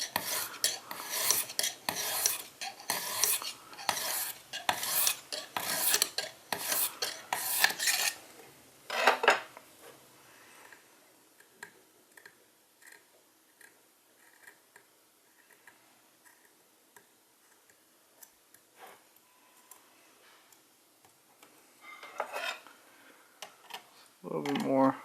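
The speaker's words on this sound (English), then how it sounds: "this is my first time sharpening the blade" Knife blade drawn over the hones of a Lansky Deluxe sharpening system, worked by a first-time user. Close, rapid rhythmic scraping strokes come in a steady run at first, then turn sparse and quiet with scattered light ticks and a louder scrape near the end.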